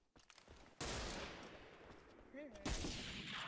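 Enemy gunfire in Ghost Recon Online crackles in sharp bursts, a loud volley hitting after a quiet start and another burst near the end, with a brief voice cutting in between.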